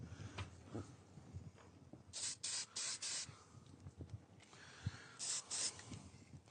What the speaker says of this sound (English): Usually better to spray the edges first.